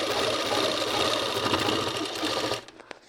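A sewing machine runs in a fast, steady whir while topstitching the outside of an Afghani salwar's waistband belt, then stops abruptly near the end, leaving a couple of faint clicks.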